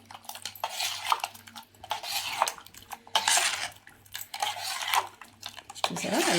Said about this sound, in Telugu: అన్నీ బాగా కలపాలండి.